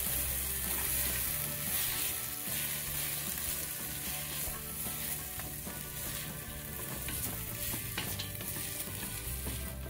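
Garlic, onion, olives, bell peppers and leek fry in a pan with a steady, dense sizzle throughout, punctuated by occasional stirring scrapes, close and continuous.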